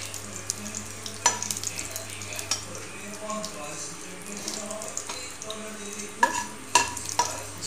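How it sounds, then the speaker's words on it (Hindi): Cumin seeds and asafoetida crackle in hot oil in a home kitchen, a soft steady sizzle with scattered sharp pops and clinks of a utensil against the pan, moderately close and fairly quiet, with no voices. "जीरा हींग चढ़कने का इंतजार करते हैं।"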